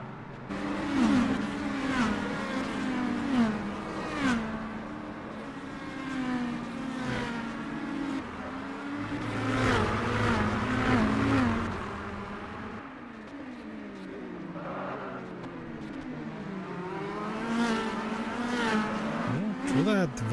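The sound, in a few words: race car taking off and accelerating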